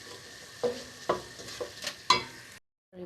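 Chicken pieces dropped into hot frying spice paste in a pan, sizzling steadily with several sharp bursts of spattering and stirring as the meat lands, then a brief pause before more stirring.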